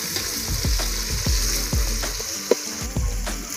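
Spiced masala for goat biryani sizzles steadily in hot oil over a wood-fired chulha, with a regular scrape of stirring roughly every half second, close and loud without any talk.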